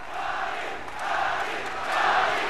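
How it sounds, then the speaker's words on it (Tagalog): A boxing arena crowd roars after Manny Pacquiao's knockout win over Fahsan Por Thawatchai, a dense wall of cheering that swells in waves and grows louder toward the end. "listen to that crowd"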